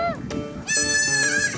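A young goat bleats loudly and shrilly, a couple of strained, wavering cries close by with no other sounds.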